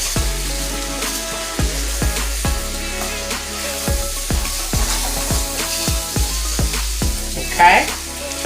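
Meats for a five-meat jambalaya sizzle loudly in a pot, with a constant frying hiss broken by a series of sharp spoon knocks and scrapes as the mix is stirred, close and busy throughout.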